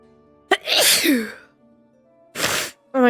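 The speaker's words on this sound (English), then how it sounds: "Oh my god, why do I keep sneezing?" A woman lets out one loud, close sneeze with a sharp intake and a burst, followed by a second short explosive burst a moment later and a brief vocal sound at the end.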